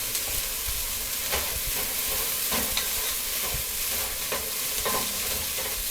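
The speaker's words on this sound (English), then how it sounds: "looks like our onions are starting to brown up a little bit" Chopped onions fry in a pan with a steady, close sizzle, broken every second or so by the scrape and rustle of stirring; no voices are heard.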